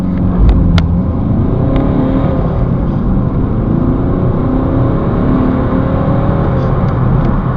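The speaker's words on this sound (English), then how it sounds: "Here we have the diesel BMW 3 Series, and we shall begin with a 0 to 60 test." A 2011 diesel BMW 320d 3 Series accelerates hard in a 0 to 60 test, a loud, steady engine drone with rising whir heard from inside the cabin throughout.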